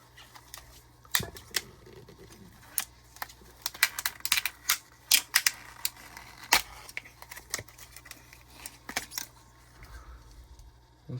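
Cured Flex-It 40 soft plastic swimbait fin being peeled off its mold: irregular sticky crackles and sharp little snaps, close and clear, with no talking.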